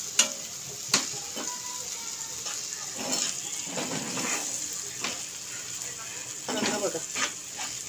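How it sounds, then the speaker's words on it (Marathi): Squid pieces fry in a pan and get stirred into an onion-tomato paste for a dry masala, a soft continuous sizzle broken by scraping stirs and occasional clinks. "ही माकली याच्यात टाकली. चांगले एकत्र करून घ्यायचं कांदा आणि टोमॅटोचं पेस्ट."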